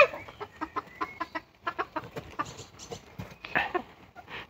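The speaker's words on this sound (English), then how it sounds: "She's the biggest chicken of all time!" A big fat hen clucks in short, repeated bursts at close range, a steady run of fowl calls with little else around.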